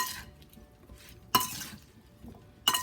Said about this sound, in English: Going to give this a quick stir until it's well incorporated.